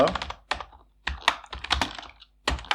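Computer keyboard typing in bursts of quick clicking keystrokes separated by short pauses, close and fairly loud, with no talking.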